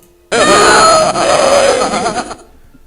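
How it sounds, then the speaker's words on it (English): A brother's muffled screaming in a haunted mansion game on a Macintosh Plus, one sustained wailing, groaning cry that starts abruptly, holds for about two seconds, then cuts off into quiet. "Your brother's screams get louder as you enter the upstairs hallway."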